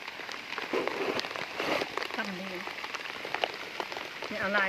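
Heavy rain pours down steadily in a forest, a dense continuous hiss of drops on leaves and surfaces, with people talking intermittently over it.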